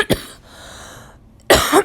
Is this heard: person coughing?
yes